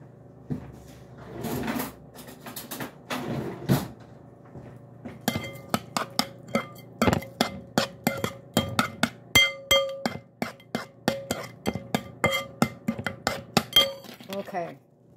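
A spoon clinks steadily against a bowl while turkey meatloaf mixture is stirred in a home kitchen, a long run of sharp, rhythmic taps after some earlier clattering of dishes.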